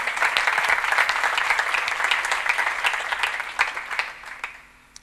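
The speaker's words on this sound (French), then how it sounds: "j'aimerais s'il vous plaît qu'on applaudisse les mamans, vos mamans, et j'applaudirai la mienne" An audience at a TEDx talk in Fez applauds the mothers. The applause is dense and steady, then thins out and fades toward the end.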